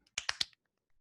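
Three quick, crisp snaps or light claps in a row, close and fairly quiet, followed by near silence.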